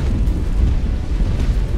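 Ship cannon fire in the video game Naval Action, heard as a dense, continuous low boom and rumble that stays loud throughout this short stretch of naval battle.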